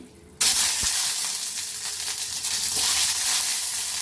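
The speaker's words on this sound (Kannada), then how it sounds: "ಆಯಿಲ್ ಇಲ್ಲಿ ಬಿಸಿಯಾಗಿದೆ, ನಾನು ಇದರಲ್ಲಿ ಎಗ್ ಫ್ರೈ ಮಾಡ್ಕೊಳ್ತೀನಿ." Eggs dropped into hot oil in a pan for an egg masala curry, bursting into a loud, steady sizzle that holds continuously after a quiet start, with faint pops and crackles through it.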